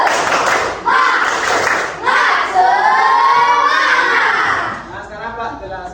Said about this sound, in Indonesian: Nah, tepuk semangat.